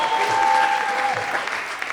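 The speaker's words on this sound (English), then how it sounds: "Yes, guys, we must clap for this guy." A comedy show audience breaks into applause, a loud, dense wall of clapping that holds steady and then thins slightly toward the end, with a faint steady tone underneath.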